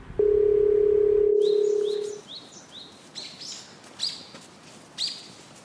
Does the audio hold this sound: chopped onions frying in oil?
no